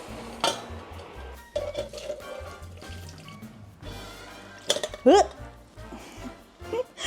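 Cooked spinach is tipped into a sieve, giving wet splashes, a short pour of liquid and clinks of a utensil against metal. A person talks over parts of it.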